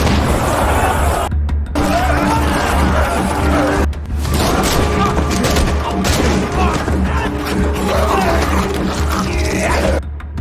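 Loud bursts of gunfire in a zombie film as a zombie is shot, mixed with roaring growls and booming impacts, dense and continuous with brief near-silent breaks.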